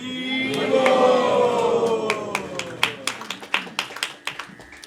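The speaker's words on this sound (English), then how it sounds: "Did you applaud to Gaura Hari?" Scattered hand claps from an audience at a devotional gathering, starting as singing fades and turning into sharp, uneven individual claps in the last seconds.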